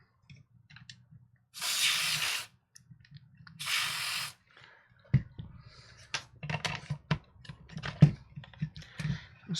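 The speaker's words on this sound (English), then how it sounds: "I'll spray some contact cleaner in there." Contact cleaner sprayed into an Atari 2600 console in two steady hissing bursts of about a second each, followed by a string of sharp clicks and knocks from handling the hardware, close and alone with no talking.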